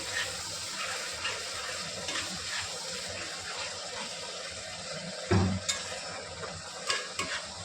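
Chicken curry with potatoes is stirred in a pan over a raised gas flame after a splash of water, giving a steady close scraping and bubbling texture with a sharper clatter partway through and no talking.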